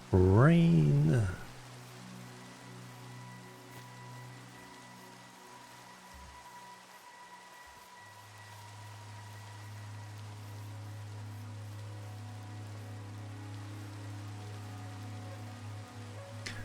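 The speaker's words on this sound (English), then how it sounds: "Rain." Rain in Minecraft patters in a soft, steady hiss that stays faint and even throughout, following a brief louder burst at the very start.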